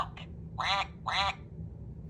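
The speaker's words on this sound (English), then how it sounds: "The duck waddles to and fro." A duck on a farm quacks twice in quick succession, clear and close, with a couple of fainter short calls just before.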